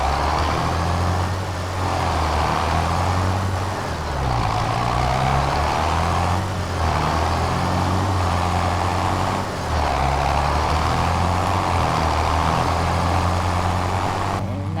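A loud, close truck engine on a farm road during corn harvest, rumbling low and pulling through successive gears, with brief dips in the drone at each shift and the pitch climbing again after each.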